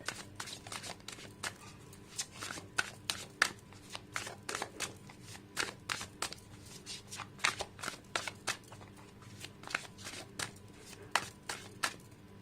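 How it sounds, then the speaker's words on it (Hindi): Tarot cards shuffled by hand close up, a steady run of quick crisp riffles and flicks alone for several seconds. "मैं तब तक कार्ड्स निकाल रही हूँ"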